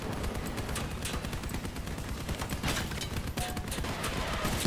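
Machine gun fire in a multiplayer shooter: dense, continuous rapid bursts of gunfire layered with other battlefield shots, sustained and fairly loud throughout with no talking.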